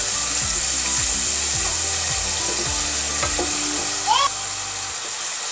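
Masala spices, dried red chilies and green chilies fry in a pan and sizzle steadily, with a rhythmic scraping of a spatula stirring them about every half second. A brief squeak comes near the end.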